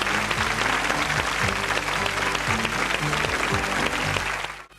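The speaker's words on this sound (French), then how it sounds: "On peut les applaudir." A crowd applauds children dressed as Santa Claus at a 1986 snowman contest show in Levallois, a loud, steady wash of many hands clapping throughout, thinning out only at the very end.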